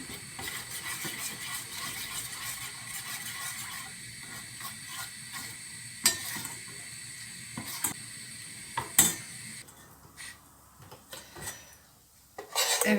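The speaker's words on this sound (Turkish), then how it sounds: "Şöyle yağı bir yakayım, kızdırayım yani." Oil with a spoonful of red pepper powder heats in a small pan, giving a soft steady sizzle near at hand, broken by a few sharp metallic clicks and clatters toward the end.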